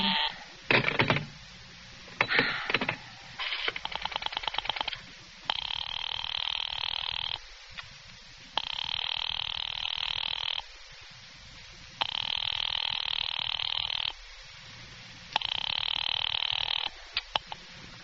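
Rotary telephone dialing in an old radio drama: a burst of clicking pulses, then a steady repeating busy signal of long buzzing tones separated by short gaps, clear and close.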